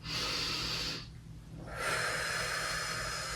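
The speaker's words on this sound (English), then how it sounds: "taking a couple of nice deep breaths as you do that" Deep, slow breathing during a standing Pilates exercise: a long airy exhale, a brief pause, then another full breath, close and steady with no talking.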